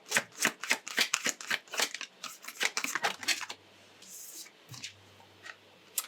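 Oracle cards being shuffled by hand, a quick run of crisp riffling flicks that stops after a few seconds and leaves quiet room tone with a couple of soft taps.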